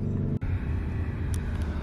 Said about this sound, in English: I'm in the Urus with Paul, and this thing has an Agropavic exhaust on it.